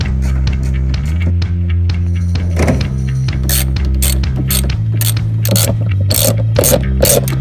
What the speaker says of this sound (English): starting with my deep socket 12, there are four 12 millimeter bolts on each of the seats